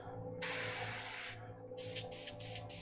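An airbrush sprays paint onto a Kingdom Death: Monster miniature in two close, steady hissing bursts, the second one stuttering into short pulses before it stops.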